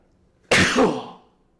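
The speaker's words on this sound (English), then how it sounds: "Sneeze again." A single sudden sneeze bursts out up close, loud and breathy, then fades over about half a second into quiet.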